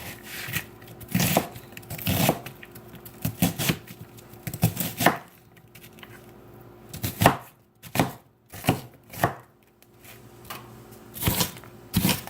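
A knife chopping food on a board for a spaghetti squash and avocado dish, with loud, irregular bursts of cutting strokes close by, with short pauses between the runs.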